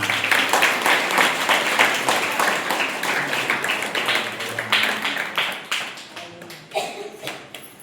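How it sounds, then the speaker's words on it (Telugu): A church congregation at a Sunday Mass claps together in lively applause, many hands close by, steady for several seconds before tapering off unevenly near the end. "సపట్లు కొట్టండి"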